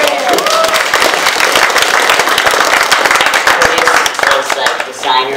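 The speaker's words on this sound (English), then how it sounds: "Everyone give Curtis a round of applause." An audience at a CalArts weekend event applauds kite designer Curtis Mitchell, dense sustained clapping filling the whole stretch, loud and close, with crowd voices mixed in beneath the hands.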